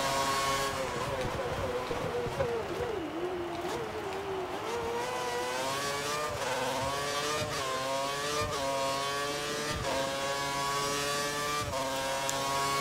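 A Formula One race car engine from the F1 2013 racing game whines steadily at high revs, rising and falling through gear changes with short shift breaks over nearly thirteen seconds, loud and close throughout.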